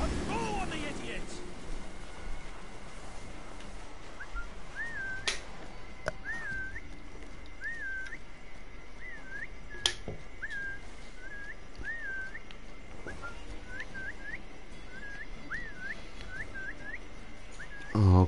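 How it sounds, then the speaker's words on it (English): A character whistles in Assassin's Creed Valhalla, a string of short rising whistle notes repeating at a steady pace over ambient game wind and water. "I'm whistling and they are running away"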